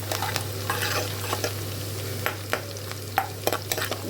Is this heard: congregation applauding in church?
no